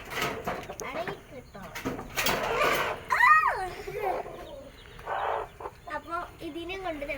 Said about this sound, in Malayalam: ഈ കോഴി എല്ലാവരും പറയുന്നത് ഇത് പെടക്കോഴിയാണ്